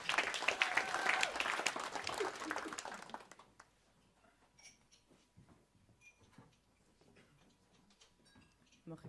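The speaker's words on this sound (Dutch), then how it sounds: "Dames en heren, applaus." Audience applause at an evening stage show rises loudly for a few seconds, then drops away quickly into quiet room noise with scattered faint clicks.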